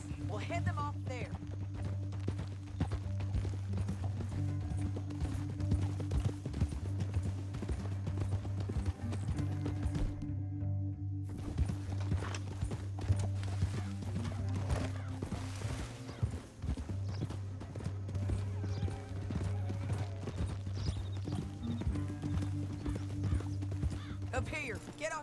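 Horse hoofbeats clop steadily while riding through a canyon in the video game Red Dead Redemption 2, a continuous rhythmic trot under game music and characters talking.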